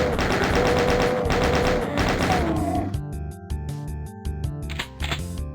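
Rapid gunfire from a chaingunner enemy in Doom 2, loud and continuous for about the first three seconds, then giving way to sparser impacts and game effects.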